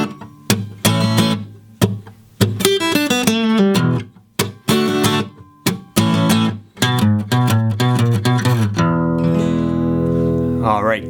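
Electric guitar plays a riff in E: loud, punchy distorted chord stabs broken by short choppy gaps and quick single-note runs, ending on a long ringing sustained chord, with no talking.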